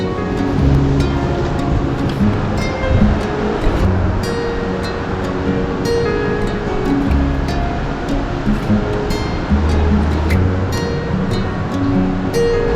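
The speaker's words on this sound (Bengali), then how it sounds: "জাস্ট রুম থেকে বেরিয়েই সমুদ্র দেখো" Sea waves wash continuously onto the beach at Puri, with a steady roar of surf close by and no speech.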